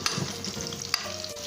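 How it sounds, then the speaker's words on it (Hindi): Onions fry in a pan for aloo gobi, a brief close sizzle with a couple of sharp stirring clicks, with no talk. "अब प्याज को हल्का ब्राउन करेंगे"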